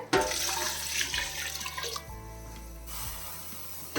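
Three cups of water are poured into a pressure cooker for chicken biryani, giving a close, splashy gush that settles into a trickle and stops before a soft clunk at the end. No speech.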